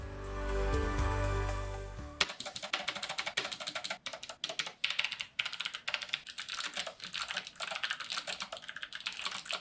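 Rapid, close typing on a Logitech keyboard: a dense, uneven patter of key clicks that follows a brief musical tone at the start and continues steadily to the end.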